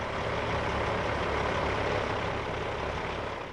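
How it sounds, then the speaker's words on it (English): A 53-foot tractor trailer truck creeps along slowly on a fireworks setup job, its engine giving a steady low idling rumble that stays constant and fairly loud throughout with no voices. "Bob Crapsey inches the truck along"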